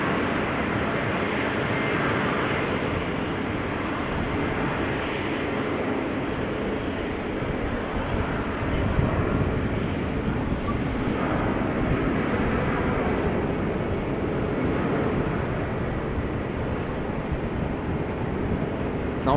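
An Emirates airliner rumbles at Amsterdam Schiphol Airport as a broad, steady engine roar that holds for the full stretch with no pauses.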